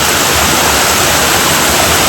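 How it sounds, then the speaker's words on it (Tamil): Waterfall at Lac Noir in Fribourg, Switzerland: a steady, loud, unbroken roar of falling water that fills the whole clip, with no voices. "அருவி ஊற்று எங்கேருந்து வருதுன்னு பார்ப்போம் பாருங்க"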